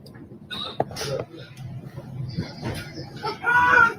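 Chickens cluck and squawk nearby in short irregular bursts, mixed with people talking and some shuffling movement.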